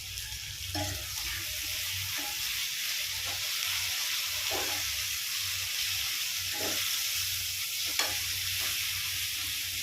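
Chillies and aubergine sautéing in a pan for chutney, a low steady sizzle broken by regular soft scrapes of a spoon stirring, with no voices.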